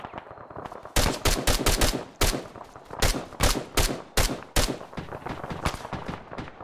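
Loud, close bursts of automatic rifle fire in the Arma 3 military shooter, volleys of sharp cracks repeating in uneven clusters through the whole stretch with no talking.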